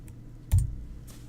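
One short, soft keystroke on a computer keyboard lands in near-quiet, a single close tap.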